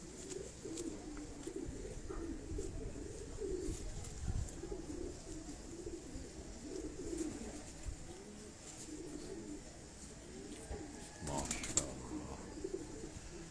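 Pigeons kept by a breeder coo softly in low repeated phrases, with a brief flutter of wings, while people talk nearby.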